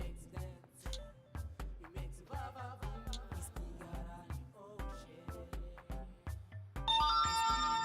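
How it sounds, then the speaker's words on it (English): A mobile phone keypad sounds a series of short, evenly spaced tones as *123 and the hash key are dialed, followed by a brighter ringing chime at the end, clear and close with no talking. "Dial *123, followed by the hash key."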